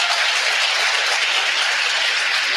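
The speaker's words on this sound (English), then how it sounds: "So give Gwen a huge round of applause." Steady, dense audience applause at a live marketing mastermind event, a continuous even wash of clapping at constant loudness throughout with no voices over it.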